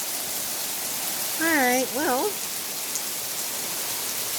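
Steady rain falls throughout as a dense, even hiss of drops on surfaces, with someone speaking briefly over it in the middle.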